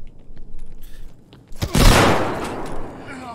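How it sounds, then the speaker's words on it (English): Gunfire in the video game Escape From Tarkov, a sharp loud shot burst with a decaying tail after a stretch of rustling movement, with a voice in the background. "Did you just shoot me and run away?"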